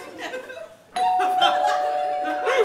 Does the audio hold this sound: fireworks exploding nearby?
no